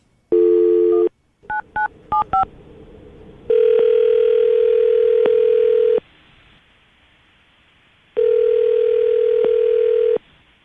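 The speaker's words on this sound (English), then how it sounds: "I'm going to call him right now, see if we can get him to answer his phone" A telephone call begins with a dial tone, a quick string of keypad dialing beeps, then long steady ringback tones with pauses between them, clear and close with no talk.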